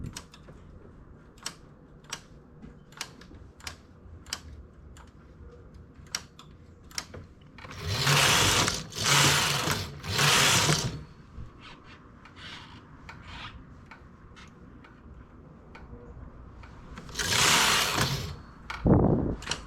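A knitting machine carriage runs across rows of a raised-stitch pattern in three loud, rasping sweeps, each about a second long, followed by a fourth pass later on, with sparse ticks and clicks of needles between them.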